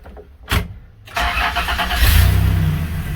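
A truck engine cranks briefly after a fuel injector replacement, then catches and settles into a steady mid-pitched running rumble, close and alone with no talking.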